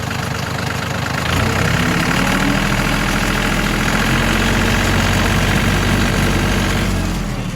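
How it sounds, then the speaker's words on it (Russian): A small Yanmar RS 30 mini tractor's 30 hp diesel engine idles loudly and evenly nearby, its low chugging rumble steady and continuous after it revs up slightly near the start. "Двигатель, как слышите, работает ровно."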